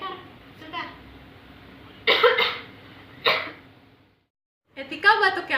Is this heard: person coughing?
yes